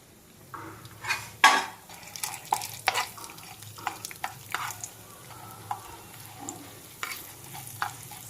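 Chana dal fries in oil in a pan, with a steady sizzle under uneven metal stirring clinks and scrapes in short loud bursts, heard close and with no talking.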